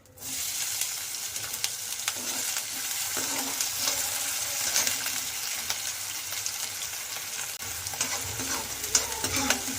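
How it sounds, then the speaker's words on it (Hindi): Onions fry in hot oil for veg momos, a loud close sizzle that starts abruptly and carries on with frequent scraping and clattering stirs throughout, with no speech. "तेल हमारा गर्म हो चुका है। अब इसमें हम प्याज डालेंगे।"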